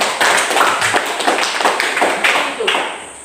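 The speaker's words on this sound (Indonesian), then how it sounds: "Nah, tepuk tangan." A classroom of students claps hands together in a loud, rhythmic burst of repeated claps lasting a few seconds, close and clear.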